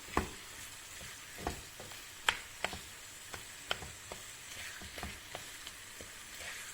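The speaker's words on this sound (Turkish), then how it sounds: "Kıyma ve soğanımızın güzelce kavurmasını sağlıyoruz." Minced meat and onions fry in oil in a pan with a steady, moderate sizzle, broken by scattered sharp clicks and taps from stirring.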